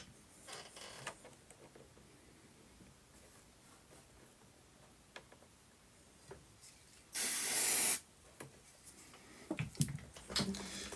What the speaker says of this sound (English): I've used the activator spray quite a lot today.